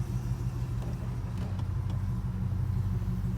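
A procharged Chevrolet Silverado pickup rumbles as it sets off for a drive, its engine giving a steady, close, low drone throughout with no talk.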